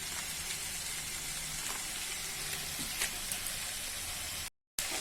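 A spiced yam curry with cumin, turmeric and green chili is sautéed in a pan, an even close sizzle with occasional soft taps, cut by a brief dropout to silence near the end.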